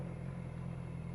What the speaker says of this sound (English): Wicked exhaust note.